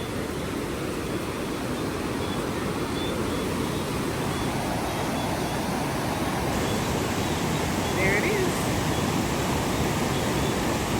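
A rain-swollen river rushing high after heavy hurricane rain in Jamaica's Blue Mountains, a steady broadband roar holding constant throughout, with a brief spoken remark near the middle.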